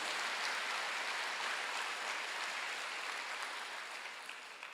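A church congregation at a Wednesday worship service applauds, a steady, fairly faint wash of many hands clapping that tapers slightly toward the end.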